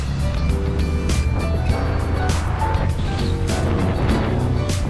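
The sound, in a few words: Honda MSX125 motorcycle engine riding in third gear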